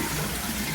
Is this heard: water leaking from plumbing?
yes